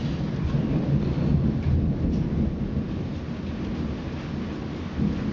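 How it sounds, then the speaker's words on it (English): A heavy rain downpour with thunder pours down outside, a dense continuous roar of rain with deep rumbling thunder, steady and fairly loud with no talking. "Got a river running down the street out there. That was quite a downpour."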